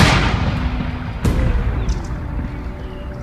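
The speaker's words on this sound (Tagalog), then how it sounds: "Habang nakadapo sila dito ay pumutok ang wire na tinutungtungan nila." An electric power line wire bursts under perched birds with a sharp crack, followed moments later by a second loud snap and a fading rumble.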